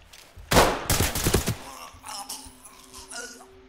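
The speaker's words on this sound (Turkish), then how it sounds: "Adamı niye vurdun?" Gunfire in the tactical shooter Ready or Not: a loud, rapid burst of several shots in the first second and a half, followed by quieter rumbling and faint game ambience.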